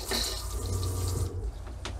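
Water gushes steadily from the tap of a Kea Nomad campervan after it is switched to shower head mode, a close, loud spraying hiss that runs without a break and has no talk over it.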